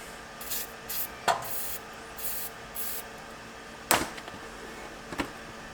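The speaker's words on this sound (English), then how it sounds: "I'm going to spray some PB Blaster penetrating oil on the top and bottom of the ball joint area" Short hissing bursts of PB Blaster penetrating oil sprayed from an aerosol can onto a vehicle's ball joint area, several quick puffs in a row, with a few sharp knocks and clanks of metal between them.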